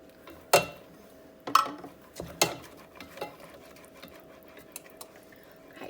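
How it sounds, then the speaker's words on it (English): A spoon scrapes and clinks against a pot while stirring homemade peach BBQ sauce, a few sharp irregular knocks standing out over a quiet kitchen background. "Stir this up a little bit."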